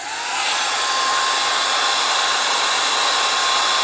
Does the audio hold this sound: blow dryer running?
yes